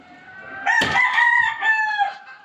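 A rooster crows once, loud and close, a single drawn-out cock-a-doodle-doo with a sharp onset and a long wavering tail, standing alone without voices.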